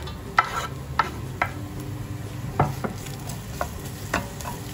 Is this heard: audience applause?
no